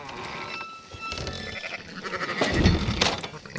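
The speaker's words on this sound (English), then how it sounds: "Fine sheep." Sheep bleat repeatedly in Red Dead Redemption 2, several calls close by and fairly loud against a busy ambient game background.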